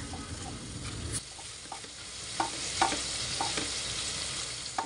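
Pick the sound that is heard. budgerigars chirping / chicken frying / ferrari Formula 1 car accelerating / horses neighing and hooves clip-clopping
chicken frying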